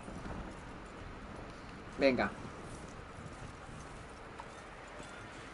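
Horse hooves in Red Dead Redemption 2 give a brief clip-clop burst of a few quick steps, moderately loud against low background ambience, while someone speaks Spanish.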